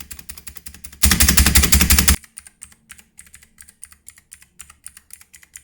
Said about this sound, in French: Le clavier mécanique touch bleu. Donc quand on appuie, ça fait...